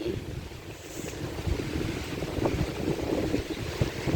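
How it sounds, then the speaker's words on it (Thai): Strong wind roars continuously with gusty swells, rumbling low and buffeting the microphone, over an outdoor wash of noise. "ลมเป็นหัวเป็นหัวมา"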